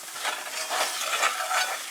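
A flour roux bubbles and sizzles steadily in a pan while being stirred, a continuous close frying hiss with gentle swells and no talking.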